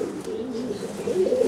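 A young female pigeon under five months old coos softly nearby, low rolling murmurs rising toward a brief louder coo at the end.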